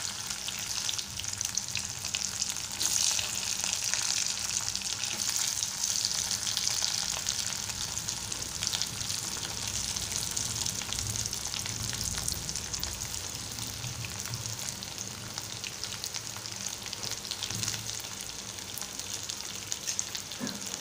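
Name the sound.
potato frying in a pan for batata poha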